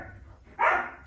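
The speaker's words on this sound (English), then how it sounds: "we just got a new puppy and they're playing" A new puppy barks during play indoors, a short bright yap rising out of a quiet room, fairly close and alone without talk.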